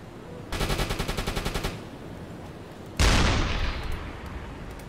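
Gunfire at a target in the submarine game UBOAT: a rapid, evenly spaced burst of about a dozen shots, then a single loud blast with a long decaying roar, heard alone with no talking.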